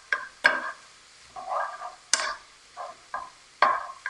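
A metal spoon scrapes across a frying pan of cooking Italian sausage in a home kitchen, giving several sharp, separate scraping strokes with softer stirring and sizzling between them, close and alone.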